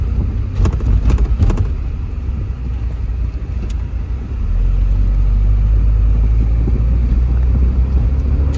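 A 1992 Porsche 968 Cabriolet with the top down pulls onto a highway, its engine a steady low drone mixed with wind and road rumble that grows louder and fuller partway through, with a few brief clicks early on.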